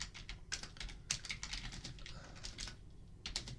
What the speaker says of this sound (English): Sorry about my typing today, it's atrocious.